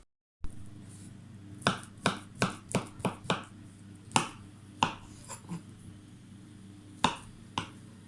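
A knife chops fruit for a fruit salad (banana, kiwi, mandarin and apple) on a board, giving about a dozen crisp, close cuts in an uneven rhythm against quiet, with no voices.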